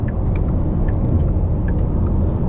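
A Porsche Taycan GTS electric car accelerating, heard as a low, steady rumble with road and drivetrain noise filling the cabin, constant in level from start to finish.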